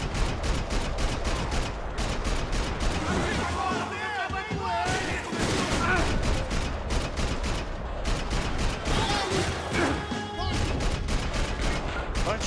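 Video-game gunfire aimed at armored enemies: dense, rapid bursts of shots and booming impacts fire almost continuously, loud and close, with a brief lull midway and voices talking over the barrage.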